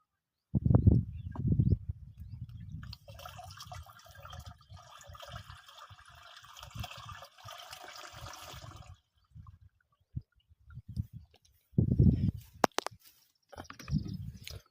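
Liquid pesticide is poured into a container in a field, with a splashy fill flowing steadily for several seconds, near and moderately quiet, bracketed by handling thumps and knocks.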